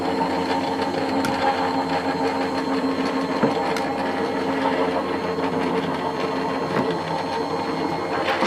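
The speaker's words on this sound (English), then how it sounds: "And now I'm just going to run it through my Go Power and Emboss die cutting machine." Go Press and Emboss die cutting machine running a cutting plate through for a card, giving a steady mechanical whirring hum with faint clicks, continuous and close throughout.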